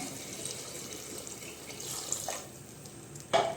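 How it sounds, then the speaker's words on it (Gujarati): Water poured into a cooking pot while making potato pulao (dum aloo pulao) with biryani masala, a steady tap-like pouring stream heard close and alone, ending with a brief louder splash. "હવે પાણી નાખશું આપણે"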